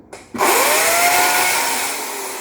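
An indoor air conditioner kicks on after a brief click, settling into a steady, close whirring hum that fades slightly as it runs, with no one talking.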